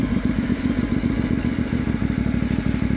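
A Yamaha NMAX motor scooter rumbles over a rough, rocky trail on the way to Miyamit Falls, its engine throbbing steadily up close while the suspension clatters and thumps rhythmically over bumps.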